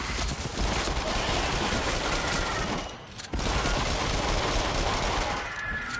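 Rapid video game gunfire during a PS4 shooter session against Jason enemies, dense continuous bursts close and loud, briefly dropping out near the middle before resuming just as heavily.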